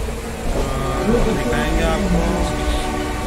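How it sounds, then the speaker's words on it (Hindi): Moving train near Guwahati heading toward Kamakhya Junction, a continuous rumbling rattle of wheels and carriages with a faint squealing tone, heard from on board while someone talks over it. "अभी ट्रेन चल रही है, लगभग आपको ट्रेन की आवाज़ भी सुनाई दे रही होगा।"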